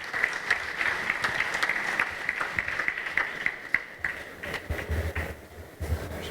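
An audience at an engineering awards ceremony applauds the winners with steady, mid-distance clapping that carries on for several seconds, then thins out with a few shuffling thumps near the end.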